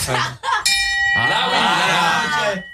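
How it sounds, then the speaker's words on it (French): A bell is struck in a radio studio and gives a bright metallic ding with a ringing tail. Voices talk around it at close range, and a second clang follows before the ring fades. "Tu touches la cloche."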